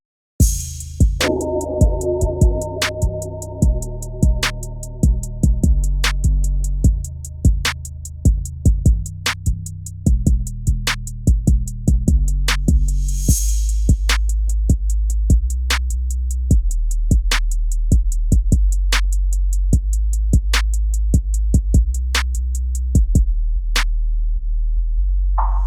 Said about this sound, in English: 808 with the beat sound like this.